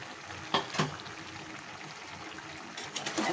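A mixed vegetable curry bubbles and sizzles softly in a pan as the lid comes off, with a quiet frying hiss broken by a few small clinks and bumps.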